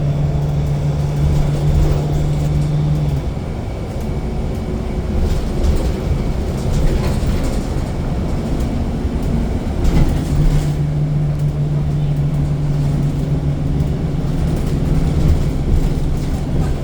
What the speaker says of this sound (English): let's see the train from the bridge